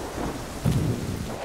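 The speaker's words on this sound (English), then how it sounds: "The other day, there was a giant storm." Thunderstorm with a rumble of thunder rolling in over steady rain, loud and close, with no voices.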